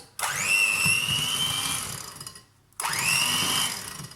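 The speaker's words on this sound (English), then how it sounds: "So we're just going to cream the butter and the sugar together." An electric hand whisk creams butter and sugar for a raspberry traybake, giving a steady high motor whine in two bursts, about two and a half seconds and then a second run after a short pause, close and loud.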